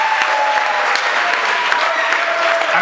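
Guests at a civil wedding ceremony applaud after the bride's vow, a steady, dense round of clapping that fills the room for a few seconds.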